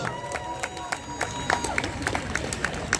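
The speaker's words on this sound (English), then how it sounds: "So give yourselves a round of applause." Protest crowd at an Auckland City Palestine rally clapping and cheering, a scattered patter of claps with bursts of shouts mixed into steady crowd noise, fairly close.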